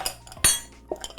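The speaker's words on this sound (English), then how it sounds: "1 big rock of ice plus a small cheater cube" A large ice rock and a small ice cube dropped into a cocktail glass while mixing a Jägerita sour, giving one sharp, bright clink followed by a couple of lighter taps, close and clear.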